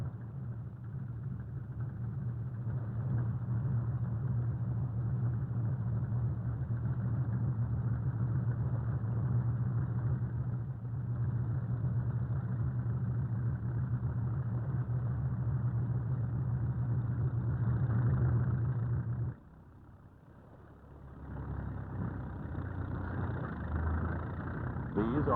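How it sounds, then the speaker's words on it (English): Dump trucks hauling sand asphalt from a floating asphalt plant on the Mississippi River bank drive off, a steady low engine rumble with hum that holds for about twenty seconds, drops away, then picks up again briefly. "Then the trucks move away to dump their loads into steel sleds."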